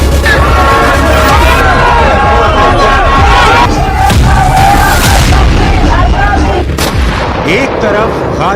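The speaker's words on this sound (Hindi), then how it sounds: "दूसरी तरफ इजराइल की सड़कों पर ऐसा हाहाकार मचा हुआ है कि नेतन्याहू की सत्ता डोल रही है" Protesters in Israeli streets shout as a dense, loud crowd roar with overlapping voices and cries. Sharp bangs and booms sound through it, and the noise stays continuous across the whole stretch.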